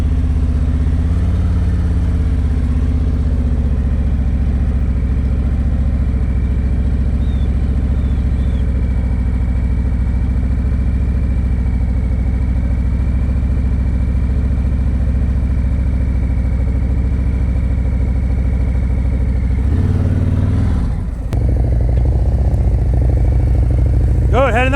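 Motorcycles run close by during a slow-speed riding practice session, with a steady, loud engine idle and low rumble that continues for most of the stretch. Near the end comes a brief disturbance followed by revving, and people talk over the engines.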